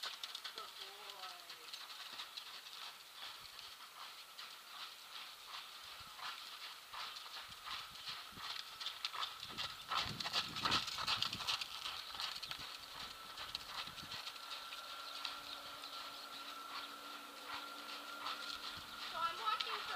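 Horse trotting in a circle on a lunge line, faint rhythmic hoofbeats in a steady two-beat pattern under a handler's spoken commands and praise.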